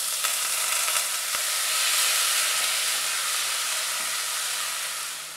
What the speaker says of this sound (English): When the cumin seeds start to splutter, drop in the onions